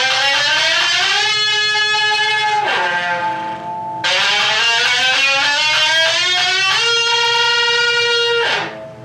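Electric guitar playing a part on the odd-shaped Satisfaction guitar: two loud sustained phrases of bright, buzzy harmonic-rich notes with sliding pitch bends, each ending in a sharp swoop, with no talking.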